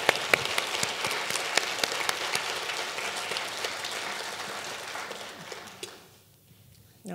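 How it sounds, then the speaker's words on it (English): Lecture audience at a university talk clapping steadily, a dense patter of hands that gradually thins and fades out near the end, leaving a brief quiet. "I'm going to clap for you."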